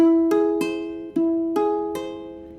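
An augmented chord in an ear-training drill, its tones entering one after another and ringing together, played twice in quick succession with a steady fade and no voices.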